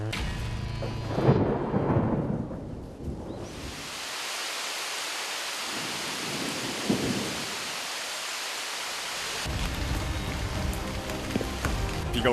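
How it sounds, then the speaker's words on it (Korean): A mountain rain shower with thunder: heavy rumbling thunder rolls in the first few seconds, then steady hissing rain fills the air, with further low rumbles and a slightly noisier patch toward the end. "석청을 찾아 내려가던 중 소나기를 만났습니다"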